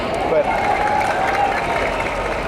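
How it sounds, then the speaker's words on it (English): A crowd at an evening peace rally in Chicago applauds a youth leader coming to the stage, a steady dense wash of clapping and cheering that holds at one level throughout, with a whistle-like tone riding over it. "Round of applause, please."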